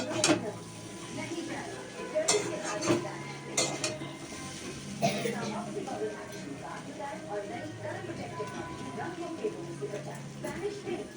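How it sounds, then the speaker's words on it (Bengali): Chowmein noodles with vegetables stirred in a crowded pan, soft sizzling under scraping and clinking of a utensil against metal, with a few sharper knocks early on; someone talks over it. "দেখুন অনেকটা বেশি হয়ে গেছে, তাই আমার নাড়তেও একটু অসুবিধা হচ্ছে।"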